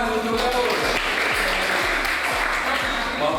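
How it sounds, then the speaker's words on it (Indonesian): Classroom applause during a school lesson on waste management, a continuous, loud patter of many hands clapping steadily for the whole stretch, with a low rhythmic hum underneath and a voice at the start. "beri tepuk tangan"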